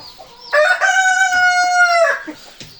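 A rooster crows loudly and close by in one long drawn-out call, with short clucks from chickens before and after.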